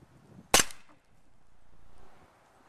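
A Winchester M1911 CO2 BB pistol fires a single sharp crack at a full beer can on a green bench, followed by a faint ring and quiet outdoor background.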